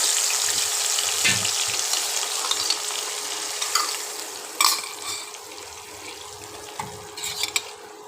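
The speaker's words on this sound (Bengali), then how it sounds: "পটলগুলো ভাজা পটলগুলো ছেড়ে দিলাম।" Fried pointed gourd (potol) tipped into a pan of gravy made with sour yogurt, cashew paste, mustard and poppy seed, giving a loud hissing sizzle that slowly eases, broken by a few clinks and scrapes of a spoon.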